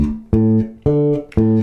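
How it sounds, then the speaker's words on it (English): An electric bass plays a root, fifth and octave pattern: three separate plucked notes, each ringing briefly before the next, close and clear with no talking. "we're going to use root, 5th, and octave across it, which sounds like this."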